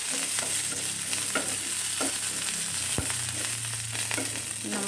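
Chillies, onion and curry leaves fry in hot oil for a Kerala ridge gourd (peechinga) curry, giving a continuous sizzle close by, broken by several sharp scraping knocks of a spoon stirring the pan.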